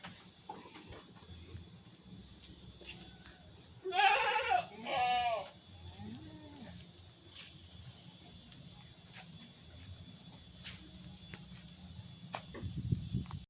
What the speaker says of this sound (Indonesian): ini kambing yang sudah dibesarkan